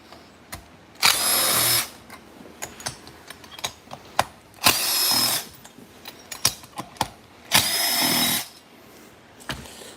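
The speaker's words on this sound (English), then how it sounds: "Now let's pop off the 4 bolts that hold that cylinder in place." Power tool whirring in three bursts of about a second each as it backs out the cylinder bolts on a Stihl MS 400 C chainsaw, separated by ratchety clicks and small metallic handling noises.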